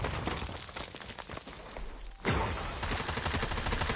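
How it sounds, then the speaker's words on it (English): Rapid automatic gunfire in the mobile shooter Call of Duty Mobile, loud dense bursts of shots that rattle continuously with a brief dip before a heavier volley resumes. "But we'll just shoot them in the back now."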